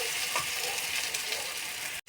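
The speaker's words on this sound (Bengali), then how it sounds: "এইভাবে আমি এগুলোকে ভেজে তুলে নিলাম" Small pieces of atta (wheat flour) dough snack frying in hot oil, a steady dense sizzle and crackle that runs without a break before cutting out abruptly near the end.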